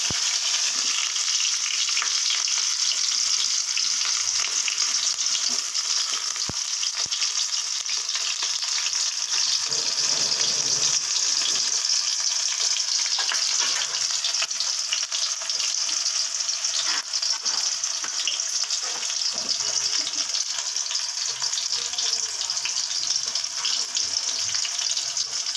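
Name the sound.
onions frying in oil with radhuni spice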